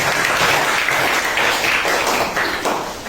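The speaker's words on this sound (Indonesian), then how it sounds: "Tepuk tangan." A room full of people applauds after a class presentation, dense steady clapping that holds for about three seconds before thinning slightly.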